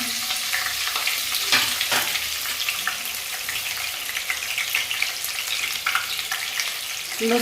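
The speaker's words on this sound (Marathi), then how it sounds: "गरम तेल झाल्यानंतर अर्धा चमचा जिरं, बारीक चिरलेली मिरची" Cumin seeds and finely chopped green chilli sizzle vigorously in hot oil for pav bhaji, a continuous close crackle with occasional sharper pops and spatula scrapes.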